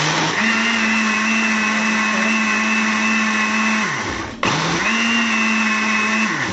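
A countertop blender runs loud and steady, whirring crêpe batter for baghrir made with flour and semolina, its motor dropping briefly to a pause before spinning back up alone.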